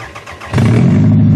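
An old Honda car engine, unstarted for three years, cranks briefly, then catches and starts, settling into a loud, rough running rumble close by.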